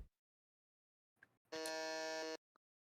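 A quiz game buzzer sounds once, a loud flat electronic tone lasting under a second, preceded by a faint click and followed by a brief blip in an otherwise quiet room.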